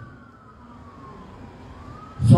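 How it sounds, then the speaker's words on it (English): An ambulance siren wails in the distance, its pitch gliding slowly down and then back up, faint under low background rumble before a louder thump near the end. "Seems like every night we hear ambulance."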